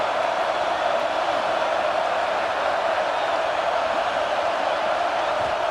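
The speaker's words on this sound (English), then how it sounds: "Wow, listen to this crowd noise. This stadium is vibrating." A College Football 26 video game stadium crowd roars as a steady, loud, unbroken wash of noise, with no distinct cheers or voices standing out.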